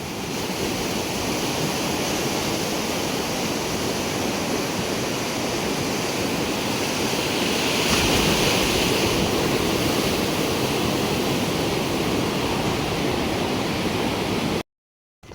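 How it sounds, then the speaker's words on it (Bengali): Sea waves rolling onto the beach at Tajpur, a constant full roar of surf that swells slightly midway, heard alone without voices before cutting off near the end. "কি ভালো লাগছে এই এই ঢেউয়ের আওয়াজ"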